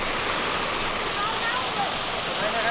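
Water flows near a waterfall by a temple, a dense, even rushing hiss that fills the whole moment without breaks or other sounds.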